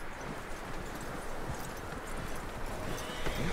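Horse hooves clip-clopping with occasional whinnying in a Western video game, a fairly quiet, busy rhythmic clatter of hoofbeats over steady background noise.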